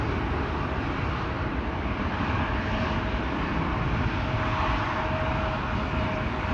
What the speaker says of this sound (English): KLM Flight 597 coming this way. Destination Cape Town, South Africa.